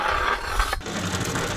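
A short, rasping scrape of something rough dragged across a hard surface, close and dry, with a brief sharper stroke in the middle.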